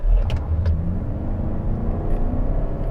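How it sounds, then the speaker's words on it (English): A 2020 Toyota Highlander Hybrid with an all-wheel-drive 2.5-liter four-cylinder, put in sport mode and floored, gives a steady loud low engine rumble that holds throughout with no talk. "I'm gonna put it into sport mode here. And then I'm gonna floor it."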